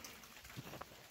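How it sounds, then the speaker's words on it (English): Rain falls outdoors at night in a rural spot under full cloud cover, a soft steady patter with a few louder drops, faint and brief. "You can hear the rain in the background."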